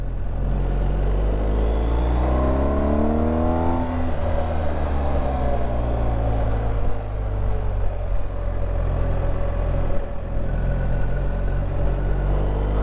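A BMW R1250 GS HP motorcycle engine on a test ride drones loud and close, with a rising rev in the first few seconds before settling into a steady, continuous running note.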